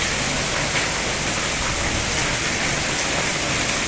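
Heavy, steady rain pours down with a dense, unbroken hiss, with wind and passing vehicles on the road in the downpour; no voices.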